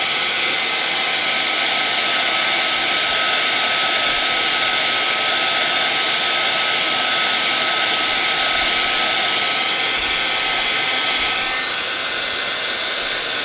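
A heat tool blasts hot air up from underneath to melt black embossing powder, a loud, steady, close roar that holds without a break and eases only slightly near the end.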